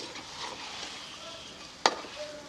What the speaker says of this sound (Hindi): बटेर मैंने शामिल कर लिए हैं। इन्हें 6-7 मिनट के लिए भून लेंगे